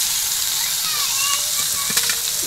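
Cut meat dropped into a hot pan, bursting into a loud, continuous hissing sizzle with crackling spatter throughout.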